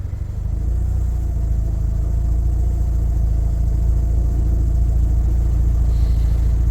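A Mazda RX-7 rotary engine idles steadily after a cold start, a loud, continuous low rumble with a constant even tone and no talking over it.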